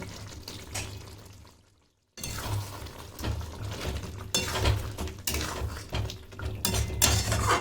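A spoon scrapes and clinks around a pan as kasuri methi is stirred into simmering kaju chicken, with a soft sizzle underneath; the stirring pauses briefly, then resumes in irregular bursts of metallic scraping.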